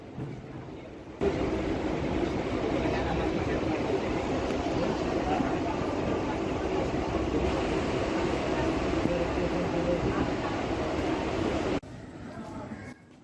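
Steady rumble and rattle inside a moving train carriage in India, continuous and fairly loud, with voices murmuring beneath it.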